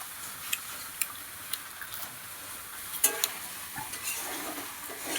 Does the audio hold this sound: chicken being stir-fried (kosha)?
yes